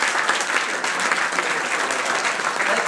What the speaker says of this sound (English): Let's give Ben a round of applause for conducting that.